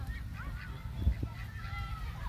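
Large white duck and geese honking on open water, a few drawn-out nasal honks rising over steady background noise at moderate distance.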